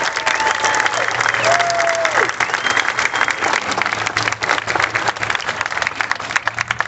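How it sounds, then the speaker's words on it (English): Steady, dense applause from a crowd fills all seven seconds at a community center opening ceremony, loud and continuous with a few faint voices and whistles mixed into the clapping. "Let's give them all a round of applause."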